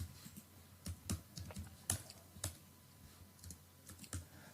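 Quiet typing on a computer keyboard while writing HTML code, irregular clusters of soft key clicks with short pauses between bursts, close and faint, alone with no voices.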